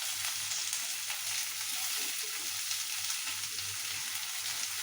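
Carrots and beans stir-frying in a pan give a steady, even sizzle that fills the whole stretch at moderate volume, with no voices over it.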